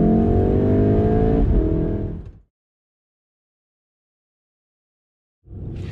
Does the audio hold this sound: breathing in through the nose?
no